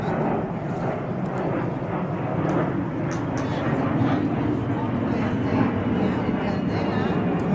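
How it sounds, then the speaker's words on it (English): A jet fighter roars steadily overhead outdoors, a loud continuous broadband rumble and whoosh holding for several seconds with no break. "It's like a jet fighter."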